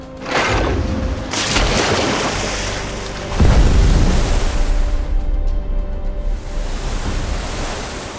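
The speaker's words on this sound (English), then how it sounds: "Drop depth charges. Depth charges port side." Depth charges go off in a wartime naval battle scene, a few deep, heavy booms swelling into a long roaring wash like churning water and surf, loud and sustained with no voices.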